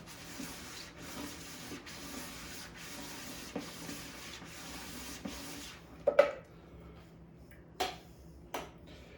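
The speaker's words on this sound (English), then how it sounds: "as you can see, it's shredding up nicely" Cooked chicken being shredded in a bowl by a shredding tool with a suction-cup base, giving a steady close rubbing and scraping for about six seconds, followed by a few sharp clicks and knocks.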